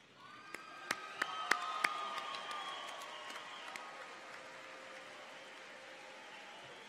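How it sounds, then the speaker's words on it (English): Graduates at a university fall commencement ceremony give a standing round of applause, a broad wash of clapping and cheering from a large crowd with a few sharp claps up front, swelling early then fading out slowly. "I would like the graduates to join me in a standing round of applause to thank your families, friends, and others"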